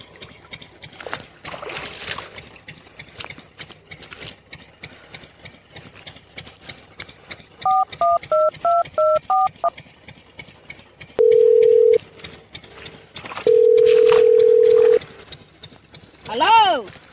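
Telephone keypad tones beep in a quick string of dialing pulses, followed by two steady dial-tone bursts, with casual conversation and background noise around them.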